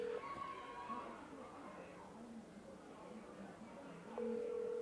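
An unanswered outgoing phone call rings out with a short tone at the start and another a few seconds later, faint, over a low background murmur.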